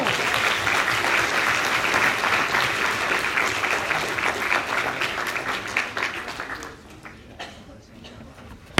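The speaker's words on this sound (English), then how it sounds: "Give that man a big round of applause." Audience applause at a live talk: a full crowd claps loudly and steadily for about six seconds, then fades away to scattered claps and quiet.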